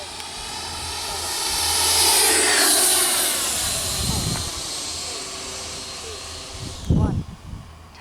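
A Taft Hobby Viper Jet V3 model jet with a 90mm electric ducted fan, 1.5 m span and 6S power, makes a fast flyby. Its hissing whine swells loudly and then fades, with faint voices underneath.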